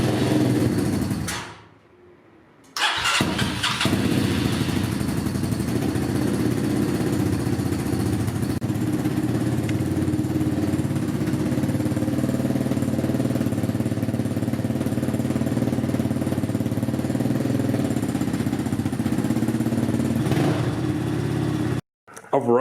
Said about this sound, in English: I'm just gonna adjust my idle up a bit and I'm gonna get it started again